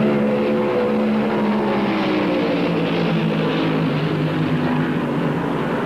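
Stock cars at roughly 145 mph in the 1971 Southern 500 at Darlington, each engine over 600 horsepower, give a loud, steady, close engine roar that holds without a break throughout.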